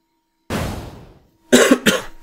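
A few light coughs from a man during a gaming session, one longer cough first, then two short sharp ones close to the microphone after a pause, with no talk.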